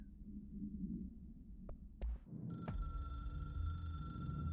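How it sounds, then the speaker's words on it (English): A telephone in the video game Control starts ringing partway through with a steady electronic tone, sounding over a low rumbling ambient drone, and no talking. "See, we have a phone call, don't we?"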